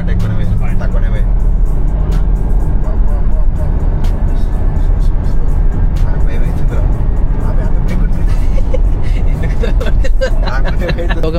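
A Mahindra BE 6E electric SUV accelerates hard from 0 to 100 in race mode, heard from inside as a steady, loud roar of road and cabin noise with people talking throughout.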